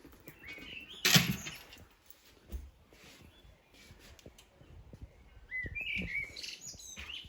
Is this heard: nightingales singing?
yes